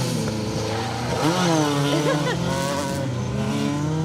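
Several rally cars, including Peugeot 205s and Vauxhall Novas, roar past one after another on a rally stage, engines rising and falling in pitch as they pass close by, loud and continuous.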